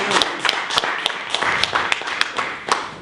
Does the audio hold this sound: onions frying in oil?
no